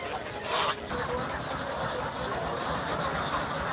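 Ducks and geese, both native ducks and domestic geese, quack and honk amid the steady bustle of a busy poultry market, with crowd noise blending into the calls throughout.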